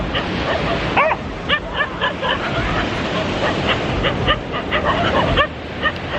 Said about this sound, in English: Dogs are fighting.